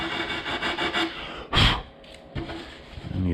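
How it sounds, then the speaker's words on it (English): Sandpaper wrapped around a small 1x2 wooden block rubs against an MDO plywood sign cutout, rhythmic rasping strokes up close, then a louder burst of scrubbing and a few more short strokes, with no talk. "this is just a little 1x2 that I just wrapped some sandpaper around"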